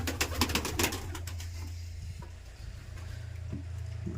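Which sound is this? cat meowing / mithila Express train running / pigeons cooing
pigeons cooing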